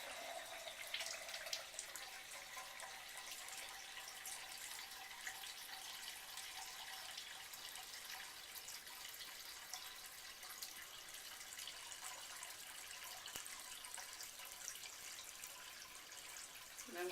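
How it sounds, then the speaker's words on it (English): Cold water pours steadily from a Kangen water machine into a container being filled to about the one liter mark, a faint, even hiss of running liquid throughout with no talking. "let it fill up to the 1 liter mark or thereabouts"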